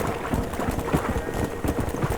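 Horse hooves clip-clopping in the video game Red Dead Redemption, a steady run of fairly loud, even hoofbeats under a low game ambience, no one talking.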